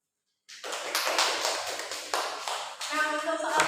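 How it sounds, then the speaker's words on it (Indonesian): A classroom of students applauding a group after a correct answer in a math lesson, a burst of dense clapping starting abruptly and continuing steadily for a few seconds, with a swell near the end. "Mari kita beri aplaus untuk kelompok 1."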